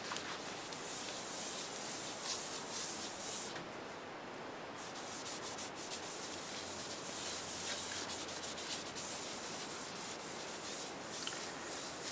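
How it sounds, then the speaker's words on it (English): A steady, soft rubbing hiss continues throughout as a cloth or pad applies sanding sealer across turned black locust wood, even and close, with no voices. "here goes the first coat of sanding sealer"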